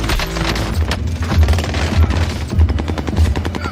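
Rapid gunfire from a shooter video game, loud overlapping bursts and sharp thumping reports in quick irregular succession, filling the moment without speech.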